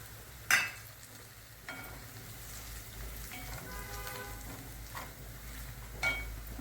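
Peas and potatoes sautéing in an oiled pan for a spiced vegetable dish, giving a soft continuous sizzle with occasional stirring scrapes and clinks close by, no talking.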